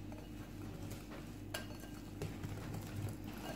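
Quiet stirring of cake ingredients with cornstarch and baking powder in a bowl, a soft steady scraping with a couple of light clinks of a utensil against the side. No voices.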